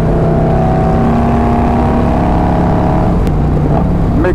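A Harley-Davidson Road Glide motorcycle engine runs loud and close with a steady, droning rumble, then revs and shifts near the end, with no talk.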